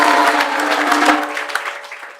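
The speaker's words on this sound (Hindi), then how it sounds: "जोर से ताली बजाओ।" A crowd at a Hindu devotional discourse and morning aarti gathering claps loudly together, a dense patter of hands over a sustained tonal background that thins out toward the end.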